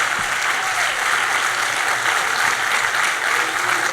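Loud, continuous applause from a large church congregation, dense clapping sustained at an even level throughout.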